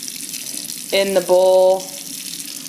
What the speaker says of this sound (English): I'm going to add water. And I always try to add pretty warm water and then mix it up